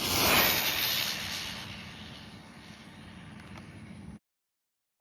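A Traxxas Bandit RC car on 2S shorty LiPo power tears past at full throttle, a loud high-pitched motor whine and hiss that peaks close by then fades away over several seconds before cutting to silence.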